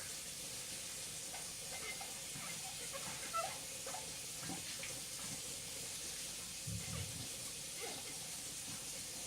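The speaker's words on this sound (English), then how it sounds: "And I'll just rinse this off quick." Something is rinsed under a running kitchen tap: a steady faint stream of water with small splashes and patter, fairly quiet and continuous.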